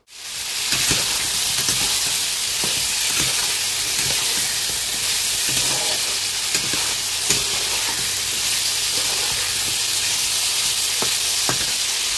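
Vegetable curry frying in a pan with cumin powder, a steady close hiss and sizzle filling the whole span, with occasional soft stirring clicks and scrapes and no talking.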